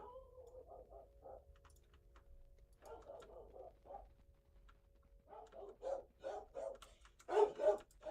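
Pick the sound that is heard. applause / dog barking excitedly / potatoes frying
dog barking excitedly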